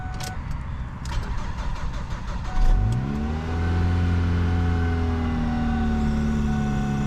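A car with 165,000 miles, in rough running condition, cranks and catches into a loud start, then settles into a steady, droning idle close by, after some clicking and rustling beforehand.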